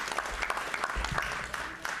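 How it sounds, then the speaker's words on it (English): Audience applause at a League of Women Voters 14th Congressional District candidate debate: a short burst of scattered, moderately quiet clapping from a small crowd, lasting about two seconds. "all right, we can give him applause"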